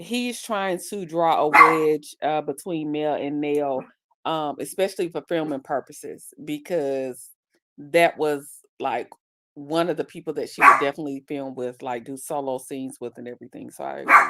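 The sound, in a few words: dog barking in the room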